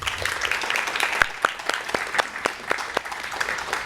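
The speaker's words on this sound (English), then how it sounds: "Another round of applause for the new inductees." A high school National Honor Society induction audience gives another round of applause for new inductees, sustained crowd clapping with a few sharper individual claps standing out, steady and moderately loud throughout.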